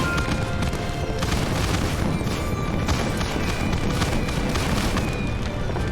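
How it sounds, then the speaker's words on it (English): Fireworks in the My Time in Sandrock game, a dense continuous barrage of booms and crackling bursts layered over one another at steady loudness throughout. "I do quite like the fireworks in Sandrock."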